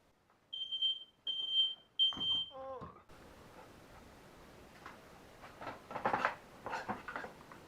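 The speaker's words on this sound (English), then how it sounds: "It's a good indicator when your smoke alarm goes off." A kitchen smoke alarm set off by toasting gives three shrill beeps, followed by a clatter and rustling household noise with faint movement nearby.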